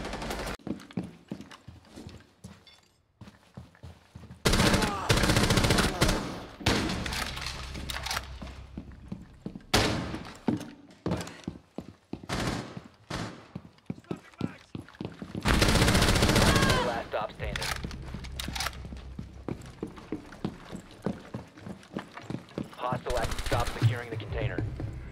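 AK rifle fire rings out in a Rainbow Six Siege match, with several loud bursts of rapid shots and single cracks spread across the stretch, mixed with game effects and players talking.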